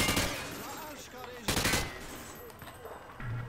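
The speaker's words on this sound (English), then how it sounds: "He sprayed bullets all over the damn place." Automatic gunfire in Call of Duty: Modern Warfare 2 on a firing range, bursts sprayed at targets, with two louder volleys near the start and middle over a busy background of game sound.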